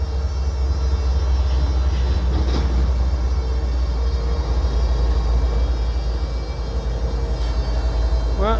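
A Florida East Coast Railway train rumbles steadily through St. Augustine, Florida, a loud, continuous low roar of engine and rolling cars, with a brief squeal near the end.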